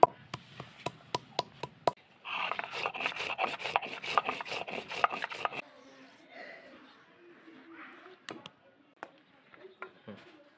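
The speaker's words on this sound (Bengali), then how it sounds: "গরম মশলা বেটে নেব।" Garam masala spices being ground by hand on a stone, heard as a run of sharp rhythmic knocks and then a few seconds of steady rasping strokes, with scattered taps trailing off afterward and no talk.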